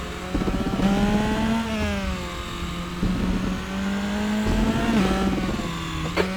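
An F3 race car in the Raceroom sim at Imola drones steadily through a slow installation lap, its engine note rising and falling with gear changes and throttle lifts, loud and continuous throughout.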